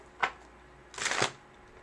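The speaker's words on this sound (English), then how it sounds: "Don't mind me as I shuffle." Tarot cards being shuffled by hand, one short riffle followed by a longer burst of rapid card flutters, close and fairly quiet with no talking.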